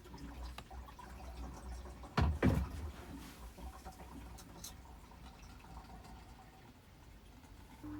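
Water is poured into a dishwasher inside a motorhome, with a short splashing burst of running water among quiet clicks and handling noises, with no talk.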